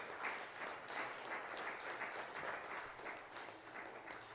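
Sustained applause from a church congregation during a sermon, many hands clapping evenly at moderate distance, without a break.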